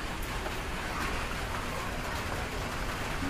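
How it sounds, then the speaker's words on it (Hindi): Steady rain falling in a constant, even hiss that fills the whole stretch, with no voices over it. "कितनी अच्छी बारिश है"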